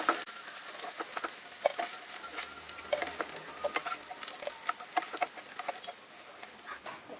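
Cauliflower pieces for chilli gobi fry in hot oil with a quiet, continuous crackle and sizzle, dotted with small sharp pops throughout.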